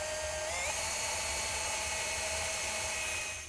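Drill with a countersink bit boring into an end-grain wooden cutting board, a steady high-pitched whine held for several seconds before trailing off at the end.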